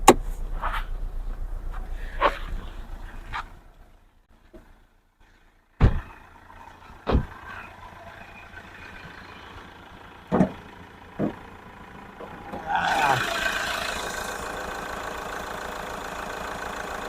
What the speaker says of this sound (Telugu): ఇంజన్ బీటింగ్ చూడండి, చాలా సైలెంట్గా ఉంది